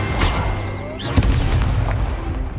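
An Incendio fire spell blast in Hogwarts Legacy bursts out loud and close, one short forceful whoosh-boom layered over busy in-game combat noise.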